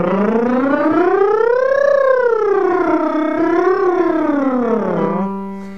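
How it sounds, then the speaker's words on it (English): A singer's vocal lip trill slides smoothly up and down in pitch, a loud, close, continuous buzzing tone that rises, falls, rises again, then settles on a low held note. "Still on a lip trill, listen."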